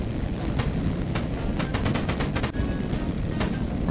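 Paint cans blow up in a workshop in a video game, giving a dense run of sharp, cracking blasts over a loud, constant roar, with no voices.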